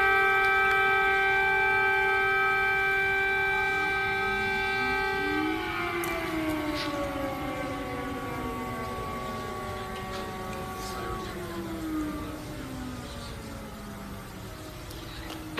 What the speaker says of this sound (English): There's the sirens again.